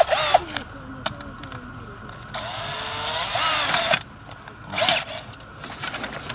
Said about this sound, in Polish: no i wiercimy z adapterem